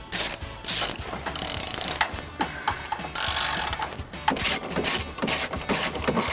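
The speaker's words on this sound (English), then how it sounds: "Now tighten down using a 13mm socket." A 13mm socket ratchet tightens exhaust hardware on a 2017-2024 Maserati Levante during a trailer hitch installation, producing bursts of rapid metallic clicks with short pauses between strokes, close and alone.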